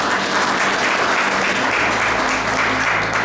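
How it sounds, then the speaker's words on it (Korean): Sustained applause from a crowd at a memorial ceremony, steady and dense clapping throughout with no speech. "다시 한번 큰 박수 부탁드리겠습니다"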